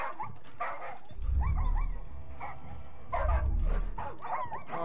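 Dogs in the Far Cry 5 video game bark and whimper in repeated yips and whines, two louder bursts rising over a low rumble, close and distinct with no speech.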